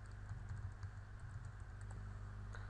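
Typing login credentials on a computer keyboard, a run of quick, faint key clicks over a low steady hum in a quiet room.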